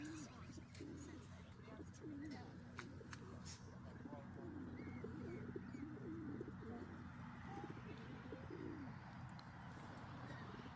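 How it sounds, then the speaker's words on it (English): Pigeons cooing at a seaside spot in Southsea around sunrise, soft repeated coos and chirps scattered throughout, fairly faint against low background hum and distant birds. "Plenty of pigeons around."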